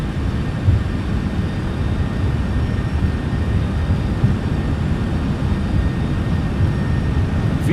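Steady, loud roar of an MD-11's jet engines in Microsoft Flight Simulator 2024, a continuous even rumble of the takeoff roll with no voices.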